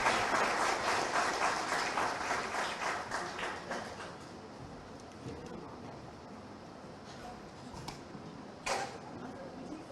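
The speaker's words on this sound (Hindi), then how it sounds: "पूरे सभागार की तालियों के बीच स्वागत कीजिए" Audience applause fills an auditorium at an education excellence awards ceremony, loud and dense at first, then thinning into scattered clapping with a brief burst near the end.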